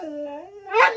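A dog gives a drawn-out, wavering howl that rises into a higher whimpering yip at the end, close and fairly loud, with no voices over it.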